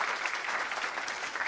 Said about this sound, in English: give a huge round of applause for that